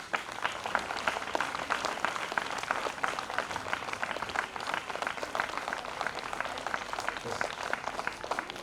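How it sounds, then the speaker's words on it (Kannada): Sustained audience applause at an honoring ceremony during a spiritual discourse gathering in Hubballi: dense, steady clapping from many hands that fills the whole stretch at moderate loudness. "ಚಪ್ಪಾಳೆ ಸೌಂಡ್ ಬರುತ್ತಲ್ಲ ಆ ಕಡೆ ಮುಖ ಮಾಡಿ"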